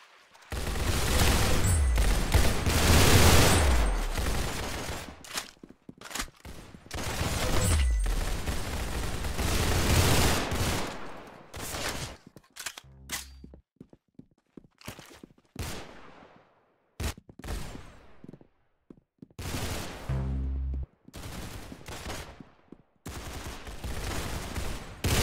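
Gunfire in the Roblox Arsenal video game, with dense sustained bursts of shots followed by scattered single and short-burst shots, loud throughout the sequence.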